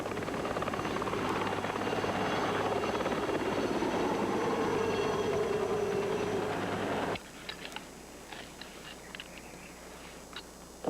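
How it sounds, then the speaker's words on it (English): An Air Zermatt rescue helicopter thrums loudly and steadily, its rotor chop filling the air before cutting off abruptly to a quieter background. "a helicopter was dispatched to the scene"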